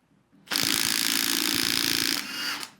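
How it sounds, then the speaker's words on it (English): A Milwaukee M18 Compact 1/2 inch impact wrench hammers loose a 22mm crank bolt on a Subaru Outback engine, a single loud, rapid rattling burst of about two seconds that ends sharply and then tails off, close up. "let's see if the M18 Compact 1/2 inch will remove the 22mm crank bolt without having to use the holding tool and a breaker bar"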